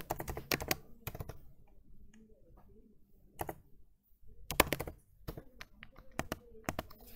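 A project name is typed on a computer keyboard: sparse clusters of crisp key taps with short pauses between them, nearby and fairly quiet, no speech.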